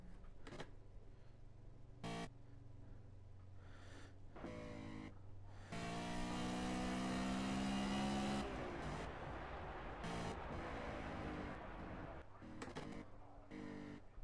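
BMW GT4 race car engine in Project Cars, revving up and down through gear changes, with a long high-pitched acceleration in the middle, quiet, with occasional talk.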